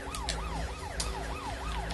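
A wailing siren rises and falls in steady repeating sweeps inside a Trials Fusion motorbike game track, loud and continuous with a low engine-like rumble underneath and no talking.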